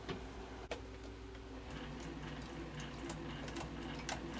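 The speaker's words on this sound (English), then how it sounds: "Now I'm just going to baste down both sides, keeping everything lined up." A sewing machine basting down both sides of a fabric wallet made from fat quarters, a quiet, steady mechanical whir with fine rapid ticking from the needle, constant throughout with one sharp click near the start.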